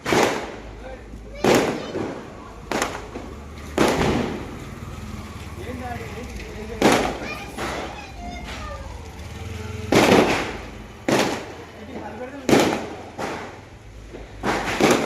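A string of loud, close Diwali firecracker bangs, about a dozen sharp bursts at irregular intervals, with faint voices in the background.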